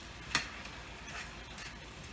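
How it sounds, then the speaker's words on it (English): Ground beef frying in a pan for lasagna, a faint steady sizzle with a sharp tick of a utensil against the pan early on and a few soft stirring scrapes after. "the ground beef has been frying"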